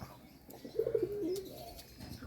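A pigeon's soft, rolling coo sounds once up close beside outdoor bathing pools, a brief throaty call standing out over quiet background noise.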